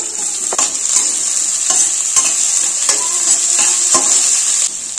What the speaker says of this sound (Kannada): ಅವೆಲ್ಲ ಸ್ವಲ್ಪ ಫ್ರೈ ಆದ ತಕ್ಷಣ ನಾವು ಈರುಳ್ಳಿ ಹಾಕೊಳ್ಳೋಣ